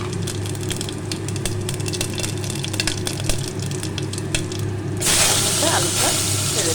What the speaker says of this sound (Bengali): এর মধ্যে আমি দেবো জিরে আর শুকনো লঙ্কা।